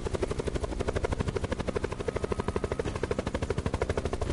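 A helicopter in the video game Call of Duty Black Ops 4 Blackout thumps with loud, rapid, evenly pulsing rotor beats, close and continuous throughout, with no talking.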